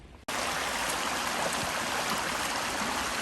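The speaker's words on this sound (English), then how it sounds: "I think I hear a waterfall." Steady rushing water of a creek waterfall after heavy rains, a dense continuous roar that starts abruptly and holds constant, fairly close and full.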